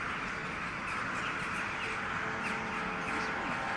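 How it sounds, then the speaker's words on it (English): Loud ravens cawing in the video game Strange Antiquities, harsh repeated cries over a steady dense background, close and continuous throughout. "Yes, very loud birds."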